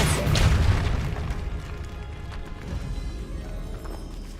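Depulso, a spell in the Hogwarts Legacy video game, goes off as a deep, loud boom that rolls out into a rumbling, noisy wash lasting several seconds.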